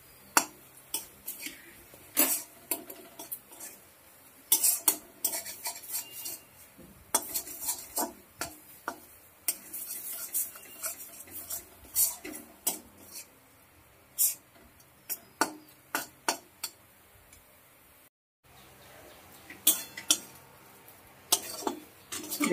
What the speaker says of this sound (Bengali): নেড়ে নেড়ে তৈরি করে নিতে হবে এইভাবে কলার খোসা বাটা